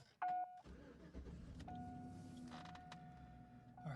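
A car starts up after a short whine, then settles into a low, steady idle that rumbles on at a quiet, close distance.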